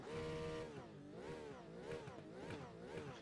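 Race car engine idling and blipping in the iRacing simulator, likely one of the new Porsche, Ligier or Cadillac prototypes; a rich, buzzing engine note rises and falls in repeated revs, loud and steady, with no talk.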